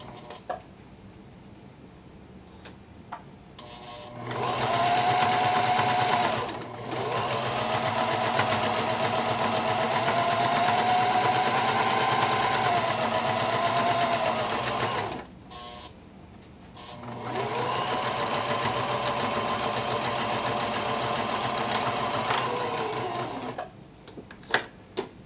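Sewing machine stitching a fabric protective face mask, running in three sustained whirring bursts of several seconds each with brief quiet pauses between, steady and fairly loud with no talking.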